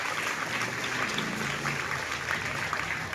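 Audience clapping in a school hall during a children's festival award ceremony, a dense, steady wash of many hands under faint voices and low hum throughout.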